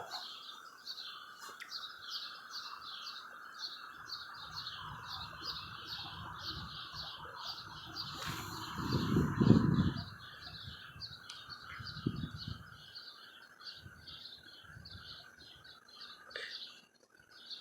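Small bird calling outdoors with quick repeated chirps and tweets over a quiet background, joined by low rustling and a brief louder thump near the middle.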